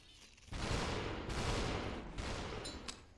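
Bursts of gunfire inside SuperHot VR, a virtual reality shooter game, come as a loud, dense, continuous crackle that starts abruptly, briefly dips and resumes, close and harsh.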